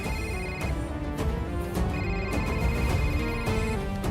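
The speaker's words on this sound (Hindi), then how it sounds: "उसी का फोन आ रहा है सर।" A telephone rings for an incoming call, giving a repeating electronic ring in short regular bursts over a busy background of movie-scene sound, steady and moderately loud with no speech.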